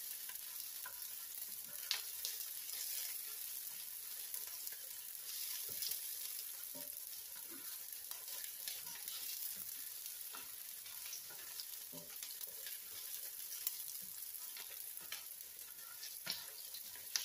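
Quiet steady sizzle of food frying in a pan for a chicken à la king casserole, with occasional light stirring clicks and crackles, no one speaking.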